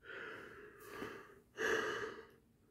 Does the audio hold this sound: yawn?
yes